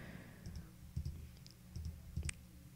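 Computer mouse clicks on a Linux Mint desktop, a few sharp, faint, close clicks spaced out over a soft steady hum.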